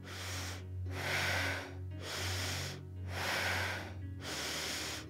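Slow deep breaths during an intermediate yoga session, three long full inhale-exhale cycles with soft airy rushes separated by brief quiet pauses, close and steady over a low background hum.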